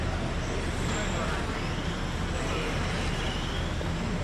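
GT12 radio-controlled cars race around an indoor track at a championship, a dense continuous whine and hiss of small electric motors with faint rising and falling pitch sweeps, with an announcer talking over it.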